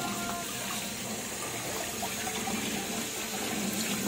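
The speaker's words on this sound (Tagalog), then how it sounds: "Tubig. Running water." Steady broadband rush of tap water running continuously while noodles are rinsed in a kitchen, loud and unbroken throughout with no voices.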